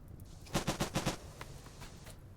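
A burst of five rapid gunshots from a weapon in the video game Rimworld, evenly spaced and fairly loud, followed by a few fainter scattered shots, with no talking.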